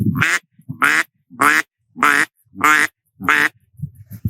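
Six evenly spaced, low, raspy quacks blown on a DJ Duck Calls duck call, loud and close, with short silences between them.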